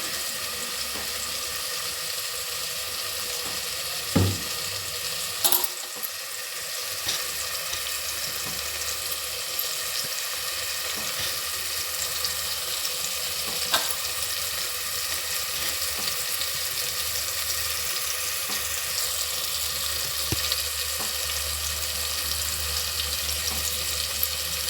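Tomato pieces cooking with soaked peas in a pan, a steady bubbling sizzle running throughout with a few faint clinks, close and even in level, no speech.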